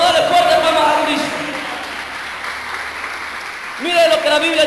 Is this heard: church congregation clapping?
yes